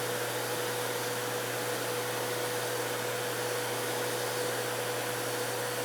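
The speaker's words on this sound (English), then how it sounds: "the air from the vacuum cleaner will suck the seeds into the holes" Steady vacuum cleaner drawing air through a plexiglass seed plate, a constant even whine with a low hum and hiss, unbroken and moderately loud throughout with no talking.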